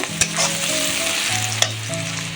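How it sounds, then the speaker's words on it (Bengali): A spice paste with turmeric and chili powder fries in a kadai for a Bengali pangas fish curry, loud close sizzling and spatula scraping with two sharp clanks, over a steady tonal hum from a nearby appliance. "দিয়ে আবারও ভালো করে মশলাটা কষিয়ে নেব"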